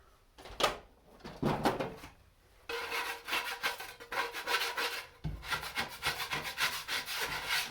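A metal scraper rubs against wet clay on a spinning pottery wheel, giving several rasping, scraping strokes at close range with short pauses between them and no talk over it.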